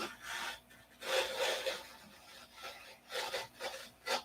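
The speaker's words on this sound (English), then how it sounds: "Sand a little off of here or a little off of there" Sanding a part of a model P-47 airplane, heard as several short rasping strokes in uneven bursts, close and fairly quiet, with pauses between passes.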